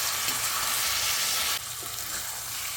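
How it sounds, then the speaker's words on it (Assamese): Grated carrot for gajar halwa frying in a pan gives a steady, fairly loud sizzle throughout, with a brief drop in intensity partway through as the mixture is moved. "এনেকৈ ভাজোঁতে দেখিছে ঝৰঝৰা হৈ আহিছে এনেকৈ"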